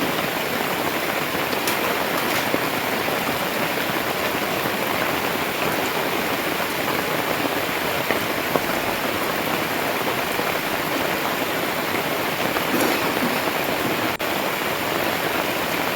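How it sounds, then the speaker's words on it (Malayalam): Steady, dense wash of heavy rain falling without a break, loud and close, with no voices over it. "ശക്തിയായ മഴ തന്നെ"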